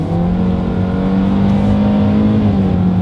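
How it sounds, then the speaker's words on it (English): A 2022 Hyundai Venue accelerates from a rolling start, its engine droning loud and steady with a rising harmonic tone throughout, no voices heard. "let's go ahead and get back to that acceleration test"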